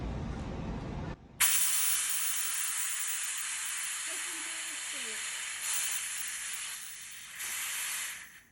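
A gas canister valve is opened and gas hisses out in a loud, steady rush that starts abruptly and holds for several seconds with slight surges, with no talk over it.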